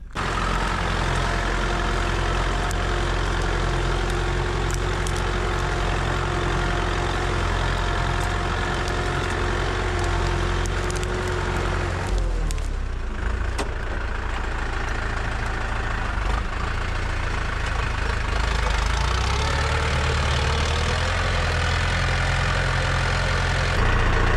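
A tractor's diesel engine runs steadily at idle with a heavy, low rumble and a faint knocking. It drones loud and unbroken with no talk, and its tone shifts briefly partway through.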